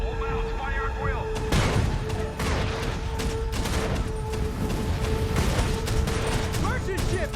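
Naval gun mounts on a warship firing at will in a battle scene, a dense barrage of booming shots and blasts over continuous loud rumble, with voices shouting under the gunfire.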